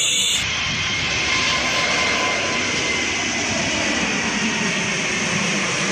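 A Singapore Airlines passenger airplane toy taking off during toy play, with a loud, steady jet-engine roar that holds unbroken from start to finish.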